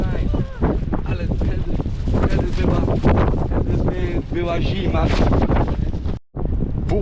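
Strong wind buffets the microphone near thermal springs in Georgia on a cold day, a loud steady roar with gusts running under a voice talking throughout.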